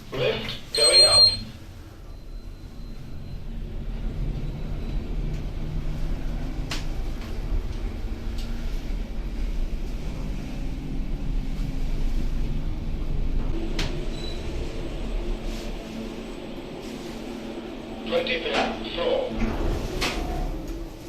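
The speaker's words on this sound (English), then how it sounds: "Lift going up." A fast Arona lift, rated at 1.6 metres per second, climbs inside a tall tower at Millennium Mills with a steady low mechanical hum and rumble, a few clicks and beeps near the start and end.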